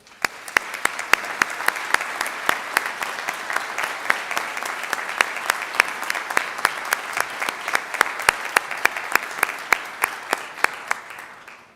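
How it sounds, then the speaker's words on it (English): Steady applause from a graduation ceremony audience honouring graduates' family and friends, a dense, even wash of many hands with sharp individual claps standing out, sustained at a constant level throughout. "why don't we give them a well-deserved round of applause?"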